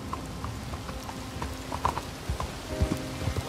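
Horse hooves clip-clop steadily on the ground in the Red Dead Redemption 2 video game, a moderately loud rhythmic gait with faint ambient game sounds and a tonal hum joining near the end.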